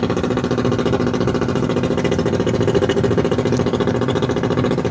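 A loud motorcycle engine idles and revs close by, a rough, rapid, pulsing chug that stays steady and continuous throughout with no talking.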